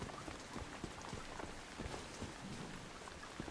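Steady rain pours in a survival video game, a dense continuous hiss of drops on surfaces with no breaks and no voices.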